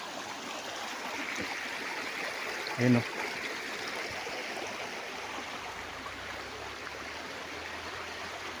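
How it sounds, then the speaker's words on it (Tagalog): A river running through a three-hectare farm lot in Real, Quezon gives a steady, soft rush of flowing water throughout, with a brief louder burst near the middle and someone speaking a few words over it. "ito yung ilog na nasa loob ng property"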